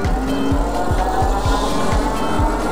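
A Himiway D5 e-bike with 86 Nm of torque climbs a hill at full throttle without pedaling. Loud, steady wind rush and rolling noise dominate, with regular repeating thumps from the tires, close to the rider.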